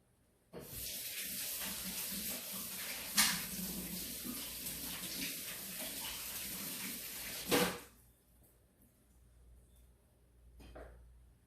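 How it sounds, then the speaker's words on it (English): Running tap water splashes steadily over hands being washed in a kitchen sink for about seven seconds, with a couple of brief louder clatters, then the flow stops and quiet handling noise follows. "I'll wash my hands again."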